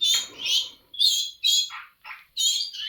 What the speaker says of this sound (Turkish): Eğitmen bülbülümüz e, henüz genç. Yeni ötüşe başladı.